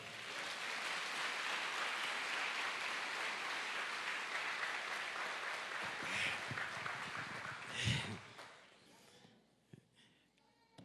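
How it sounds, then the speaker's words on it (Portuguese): Church congregation applauding during a worship program, dense steady clapping that thins and fades toward the end, followed by a few scattered claps and movement. "diga amém, diga aleluia e dê um aplauso ao Senhor"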